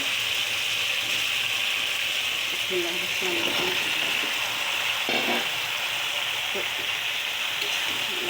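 Bottle gourd and sarpunti fish heads fry in a spiced pan while being stirred, with a constant close sizzle and repeated scraping, rattling stirring strokes throughout.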